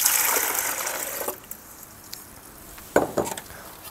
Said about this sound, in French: Donc, tout simplement, vous mettez l'eau dedans.